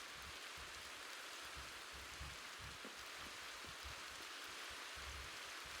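Steady, even rain hisses continuously in the Minecraft video game, a soft broadband patter with no pauses and no talk.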